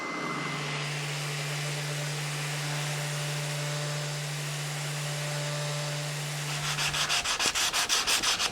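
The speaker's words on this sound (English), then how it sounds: "that's finishing up with a 180 grit. If you notice, I switched to hand sanding." Hand sanding with 180-grit paper on the cast metal of a Stanley 19-400 miter vise, a close, steady abrasive hiss over a machine hum, breaking into quick rhythmic back-and-forth strokes near the end.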